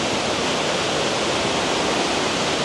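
A waterfall at a farm resort roars as a loud, continuous, broadband rush of falling water that stays steady throughout, with no other sounds standing out.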